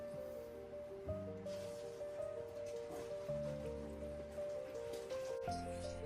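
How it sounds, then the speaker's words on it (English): Water drips and trickles from newly installed hot water plumbing in a small cabin, a steady, close patter layered over a low tonal hum. "Nope, got a drip."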